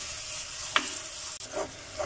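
Onion and ginger sauté in hot oil for a Kochi-style Dover sole fish curry, giving a steady close sizzle with a few soft stirring scrapes and no talk.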